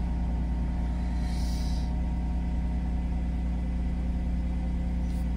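A Mercedes SL280 R129 engine idles just after its first cold start, a steady low rumble with even humming tones that holds constant and close for the whole stretch, with no voices.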